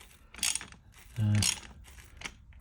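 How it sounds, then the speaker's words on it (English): A long threaded bolt turned by hand to slacken the timing belt tensioner on a Peugeot, giving short mechanical ratcheting clicks with one louder grinding burst in the middle, close up and with no talk. "You've got this little threaded long bolt which we need to turn to loosen the tensioner."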